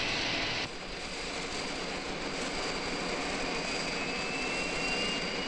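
A jet airplane roars in a steady, even, high-pitched whine, continuous and moderately loud throughout, with no talking.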